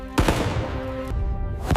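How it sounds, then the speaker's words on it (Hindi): Cannons of Indian rebels fire during the 1857 battle at the Residency, with sharp booming blasts at the start and end over a rumbling background of battle noise. "उधर से भारतीय विद्रोहियों की तोपें गरज रही हैं।"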